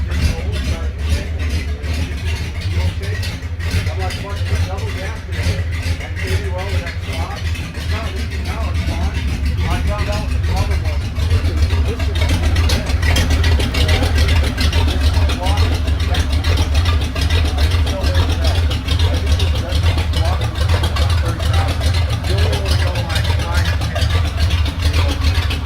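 A 1946 Ford pickup truck with a freshly rebuilt Ford flathead engine runs loud and close, a steady rumbling idle that swells slightly around the middle and holds strong, with a voice talking briefly over it.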